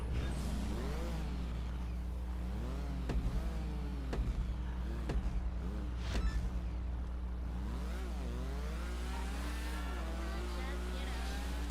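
A car engine in a GTA V Online point-to-point race, a steady droning engine with rising and falling revs under continuous talk, with occasional sharp clicks.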